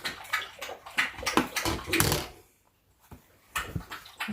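Wet, rapid lapping and splashing close by as a dog drinks water, coming in busy bursts with a brief quiet gap in the middle.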